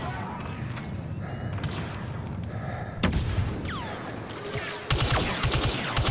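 Gunfire in a Star Wars video game as Stormtroopers are shot: dense, crackling bursts of blaster-style fire that run continuously, with a sharp crack partway through and heavier volleys toward the end.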